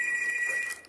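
A phone alarm rings as a steady, high electronic tone with a bright buzzing edge, continuous and moderately loud, trailing off slightly at the end, with no talking.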